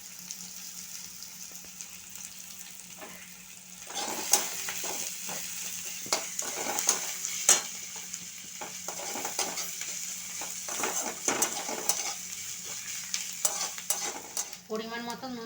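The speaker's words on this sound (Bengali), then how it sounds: "কাঁচা লঙ্কা দিয়ে দিলাম। পেঁয়াজ কুচি দিয়ে দিলাম। দিয়ে এগুলো ভালোভাবে ভেজে নেব।" Green chillies and chopped onion fry in a pan with only faint sizzle at first, then a spatula scrapes and stirs them in repeated brisk strokes over a soft steady hiss.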